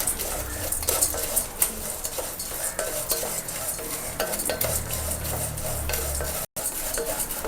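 Vermicelli being stirred and roasted in ghee, with continuous soft frying crackle and frequent metallic scrapes of a spoon on the pan, close up. A brief dropout near the end, no voices.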